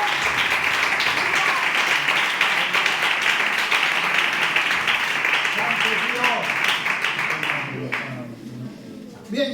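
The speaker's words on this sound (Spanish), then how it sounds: "Puedes pegar un fuerte aplauso al Señor." Loud, sustained clapping fills a church as the congregation applauds for about eight seconds, then the clapping stops abruptly and a voice begins speaking.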